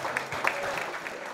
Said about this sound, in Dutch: een applaus voor Sylvia